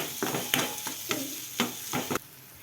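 A spoon scrapes and knocks against a pan as green chilies are stirred in while chicken keema cooks, several irregular strokes over a steady oil sizzle, close and fairly loud.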